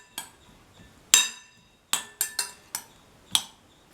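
Spoon clinking against a bowl while carrot, tomato, onion and yogurt raita is mixed, a handful of sharp, bright taps spread irregularly over a few seconds, close and clear with no talking.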